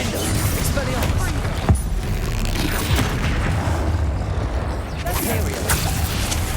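Repeated fiery spell blasts boom amid a chaotic Hogwarts Legacy battle against a troll, heavy thuds and crackling impacts layered over dense combat noise and shouted incantations.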